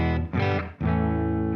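Clean electric guitar signal heard before an overdrive and boost pedal is switched on, a few sustained strummed chords ringing loud and full with no talk over them.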